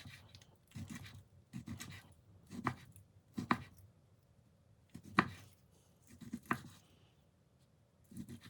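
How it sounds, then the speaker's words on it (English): A knife dices chicken breast on a cutting board for chicken and sweetcorn soup, with about a dozen quiet, close chops in short irregular clusters. "Dice the chicken breast."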